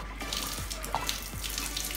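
Tap water runs steadily into a sink, splashing with scattered drips and small splatters as it pours over a hand, close and continuous with no talking.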